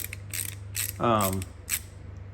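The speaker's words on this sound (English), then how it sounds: "And both of these are ratcheting, which is handy when you're using something small." A ratcheting Makita sub-compact screwdriver clicks in short bursts, close up, with a brief creaking whir in the middle over a steady low hum.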